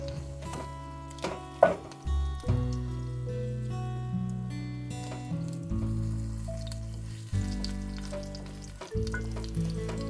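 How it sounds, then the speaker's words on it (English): Ground turkey breaking apart and frying in a hot pan, a steady sizzle with occasional stirring and scraping clatters, close and continuous throughout. "We're going to add our turkey. Going to break that up as it's cooking."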